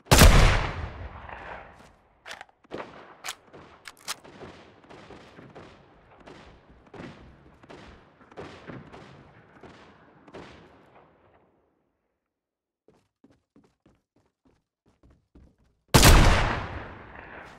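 Gunfire in the Fortnite video game, including sniper shots: a quick burst of sharp cracks and thuds with fading tails, a lull with faint clicks, then one loud blast near the end.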